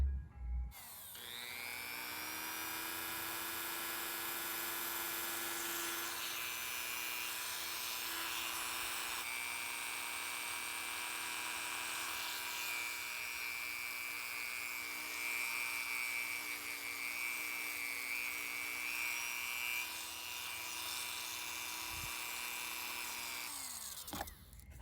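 Diamond drill bits grinding into glass, a steady high-pitched whine with layered tonal harmonics that holds for about twenty-four seconds, close and loud, starting and stopping cleanly, with no talking.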